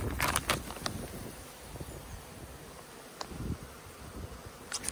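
Honey bees buzz around an open beehive in a faint, steady drone under rustling, with a few sharp handling clicks and knocks nearby and no talking.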